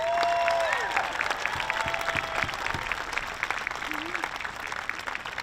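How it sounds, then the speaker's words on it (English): Crowd applauding Native veterans at a world hoop dance championship, sustained dense clapping from a large audience with a few whistles and voices mixed in. "Can we give our veterans a round of applause?"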